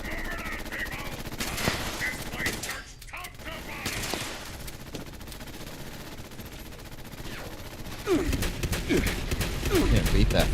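Rapid automatic gunfire in a video game, bursts of fast repeated shots scattered through a busy, noisy scene, growing louder and denser toward the end, with someone talking throughout.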